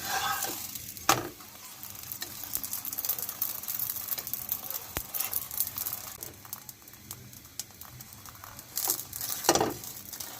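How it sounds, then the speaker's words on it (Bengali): A paratha cooks on its second side in a pan with a spoon of oil, a faint continuous sizzle broken by sharp scraping and pressing clicks from the spatula, with no one speaking. "এখন আমি অপর সাইডটাও ভেজে নিচ্ছি"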